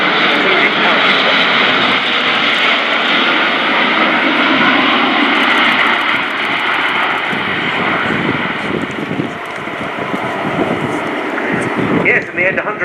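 An Airbus A400M Atlas military transport flies an airshow display at RIAT, its turboprop engines giving a loud, steady roar throughout, with a commentator talking over the noise.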